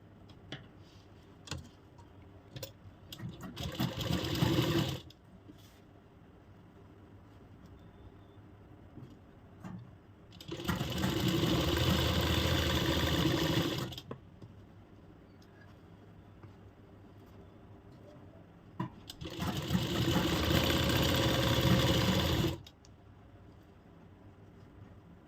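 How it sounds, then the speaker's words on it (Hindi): A sewing machine stitching a seam on a Banarasi-suit kurti runs in three separate bursts of several seconds each, with quiet pauses between, close and moderately loud. "यहाँ से हम इस पर सिलाई लगा देंगे"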